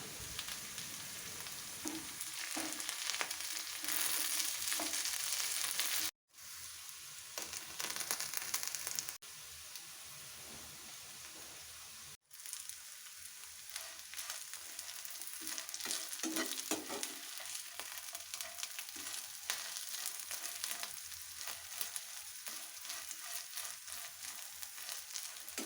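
Ivy gourd (kovakka) fries and sizzles steadily in a pan, with scraping stir strokes through the hiss and two brief breaks where the sound drops out, no talking.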